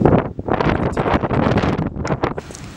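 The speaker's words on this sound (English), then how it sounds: "It's very windy." Strong wind blows across the southeast coast of Gran Canaria in the Canary Islands, gusting in uneven, loud bursts that buffet the microphone close up.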